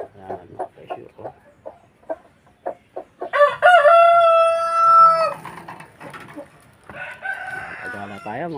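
Rooster crowing loud and near in one long held call, with scattered clucks and other fowl calls before and after, from a flock of Asil Cross and Texas chickens.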